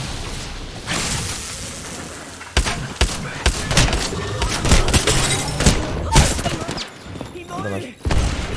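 Gunfire in a video game, with loud bursts of shots and heavy thuds scattered irregularly over roughly eight seconds, mixed with players talking.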